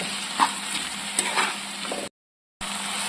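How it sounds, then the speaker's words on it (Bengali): Spices and potatoes for dhokar dalna are sautéed in oil in a pan, giving a steady close sizzle with a few soft spatula scrapes, cut by a brief stretch of total silence before the frying resumes. "দেখুন ভালো করে কষিয়ে নিচ্ছি,"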